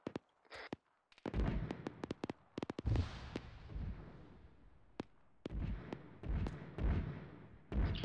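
Indirect fire explosions during a military infantry training exercise, a series of loud, sharp blasts and pops at irregular intervals, some close and booming, others quicker and crackling, with no speech.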